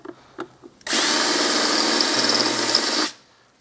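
A power drill drives a screw into plastic on a 2016 Polaris RMK AXYS 800 snowmobile, one loud steady whir lasting about two seconds after a few faint clicks, close up.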